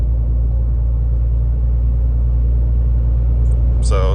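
A Dodge RAM 2500 truck drives on a rough road, heard from inside the cab as a constant loud low rumble and road drone. A voice cuts in briefly at the very end.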